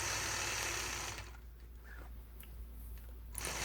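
A sewing machine stitches point-to-point curved quilting lines along a ruler. Its steady motor hum and needle run sound close and continuous, easing slightly partway through.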